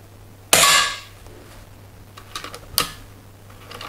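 A Weihrauch HW 100 S air rifle fires lead-free pellets: one sharp, loud crack near the start, then a fainter click and a smaller snap a couple of seconds later against a quiet background.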